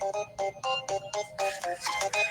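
A mobile phone ringtone plays at a gathering: a loud, bright melodic tone repeating in quick rhythmic bursts, sounding alone with no speech over it.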